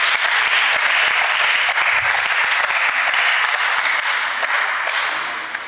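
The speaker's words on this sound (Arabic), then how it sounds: "أعطيوني تصفيقة" Audience applause fills a studio during an Algerian television talk show, a dense, steady wash of clapping that holds loud throughout and tapers slightly at the end, with no voices over it.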